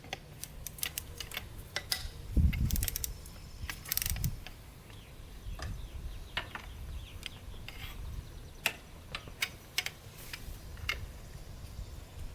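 Ratchet wrench clicking in bursts while loosening the big cylinder nuts on a Honda 400ex ATV, close and fairly loud, with knocks and metal clanks between strokes and no speech.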